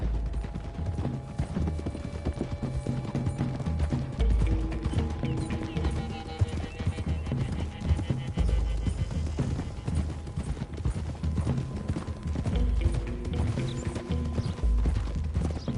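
Horse hooves clip-clopping steadily on a road in the video game Red Dead Redemption 2, a rhythmic trotting patter that continues throughout, mixed with music and ambient game sound.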